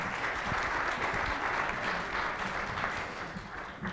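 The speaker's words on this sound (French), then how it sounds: "Applaudissez mes invités, s'il vous plaît." Audience applause for round-table guests at an industrial AI conference, steady and full for four seconds, tapering slightly near the end, with no talk over it.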